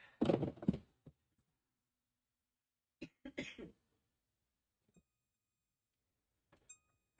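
A woman coughing in several harsh bursts, a heavy fit at first, then a pair of shorter coughs after a pause, quiet between.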